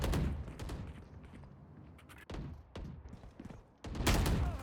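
Gunfire exchange in the video game Valorant: several bursts of dense gunshots, loud and close, with a heavy volley at the start, scattered shots in the middle and another strong barrage at the end.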